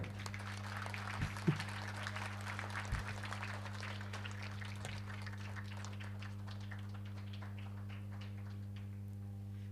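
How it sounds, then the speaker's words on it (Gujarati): An audience at a Sharad Purnima festival gathering in Vijapur claps during a family honouring, producing a dense patter of applause over a steady PA hum that gradually thins out and fades. "ઓ છોકરાઓ તાળીઓ પાડો હવે"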